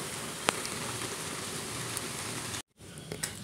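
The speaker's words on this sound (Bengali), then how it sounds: "তো এই সেম ভাবেই আমি সবগুলো ভেজে নেব।" Snacks frying in a pan of hot oil make a continuous crackling sizzle with a few sharp pops, briefly cut off near the end before the bubbling resumes.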